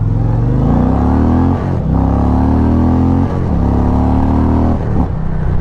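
An Indian Pursuit Limited motorcycle is ridden hard, its engine loud and close as it revs up through the gears in repeated rising pulls with brief dips at each shift, and no voices.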